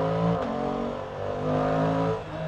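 A Suzuki GSX-8S motorcycle accelerates gently under throttle, its engine note holding a steady, close drone that dips briefly and then rises again before easing off at the end, with no talk.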